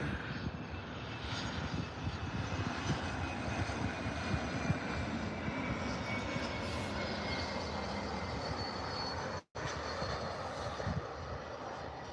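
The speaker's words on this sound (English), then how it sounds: "You're looking at Embraer, ERJ." Embraer ERJ regional jet engines roar steadily at Birmingham Airport, a loud continuous turbine rumble with a high whine, broken by one brief dropout near the end.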